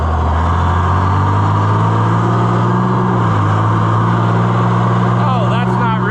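A John Deere 9650 combine engine runs out of road gear with a loud, steady low drone and a slight dip in pitch midway, while a person talks over it.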